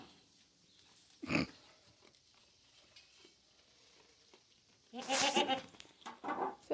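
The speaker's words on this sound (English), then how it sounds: "Silly goat." A goat on a farm bleats once briefly early on, then gives a louder, longer run of bleats near the end, with quiet pauses in between.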